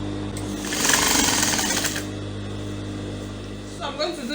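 A sewing machine runs a short burst of rapid stitching on a women's trouser seam, loud and close for about a second and a half, then stops; a steady low hum remains and a voice briefly speaks near the end.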